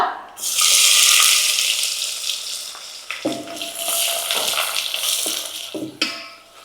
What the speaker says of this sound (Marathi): कांदा आपल्याला आता थोडासा सोनेरी थोडासा लालसर होईपर्यंत परतवून घ्यायचा